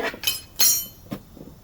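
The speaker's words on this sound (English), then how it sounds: "put the 10mm wrench on the jam nut and tighten it down" Metal wrench on the jam nut of an all-wheel-drive Cub Cadet mower, giving a few short, sharp clinks and taps close by, spaced irregularly with quiet between.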